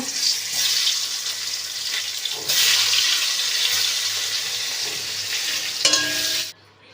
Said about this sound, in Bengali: এবার ওই তেলের মধ্যে আলুগুলোকে একটু ভেজে নেব